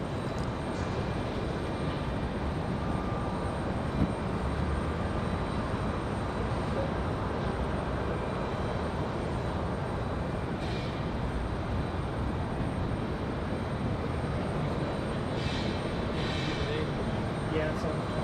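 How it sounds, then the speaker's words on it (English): A Boeing 757 departs toward Atlanta, giving off a loud, continuous broadband engine roar that holds steady throughout. "we've got our 757 up next, back to Atlanta. Enjoy this departure."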